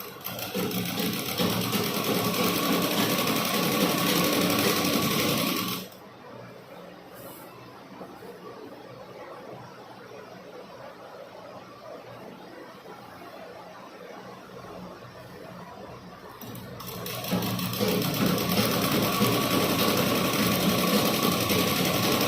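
An electric sewing machine stitches a chudidar band in a tailoring class, running in a steady fast hum for several seconds, pausing into quiet, then starting again close and loud near the end.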